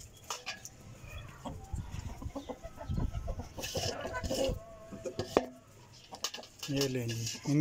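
Chickens cluck and squawk close by while being fed spinach and grain, in busy irregular bursts mixed with clattering and a little talk.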